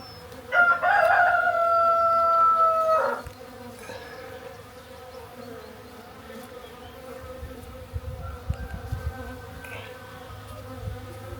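Bees checking out a bee box fill the air with a steady, low buzzing that runs throughout, while a rooster crows loudly once near the start.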